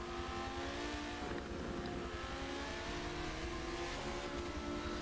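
GT race cars at an RMR round run on a circuit, a steady distant engine drone with cars passing under the wash of the crowd and track noise, faint overall.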